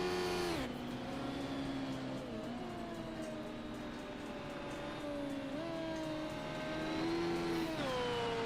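A race car engine at Silverstone in a racing video game drones steadily, its pitch dipping on each downshift and climbing again as it accelerates through the laps, loud and continuous.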